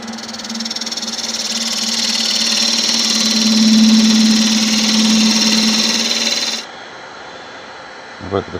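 A wood lathe turns a Malaysian acacia vase with a big knot, giving a steady close motor hum with a tonal whine and a rising scraping of the gouge, then dropping to a quieter run.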